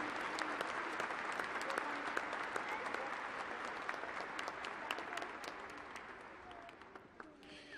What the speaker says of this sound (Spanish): le damos también un aplauso